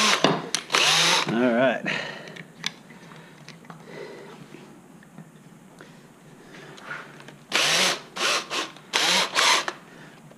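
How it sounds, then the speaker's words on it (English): A small drill bit boring straight through wood for a long box turkey call, heard as several loud, close whirring bursts separated by quieter stretches, with someone speaking briefly. "I drill with a real small bit to go through and try to keep that as straight as possible."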